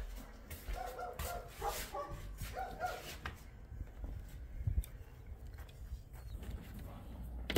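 Several dogs bark and whimper as a new ten-month-old female puppy is introduced to them, with yips and whines clustering in the first few seconds and then trailing off into softer, scattered noises with faint background talk.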